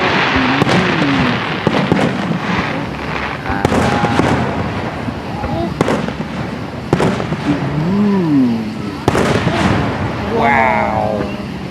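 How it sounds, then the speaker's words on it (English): An outdoor fireworks display, with repeated booming bursts and crackles at irregular intervals, while people talk and exclaim over the explosions. "Are you dancing to the fireworks"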